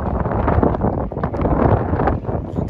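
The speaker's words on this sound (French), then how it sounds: "Vous entendez le vent là?" Gusty wind buffeting the open air in Marseille, a steady broadband roar that swells and dips in loud rushes throughout, close and full, with no voices.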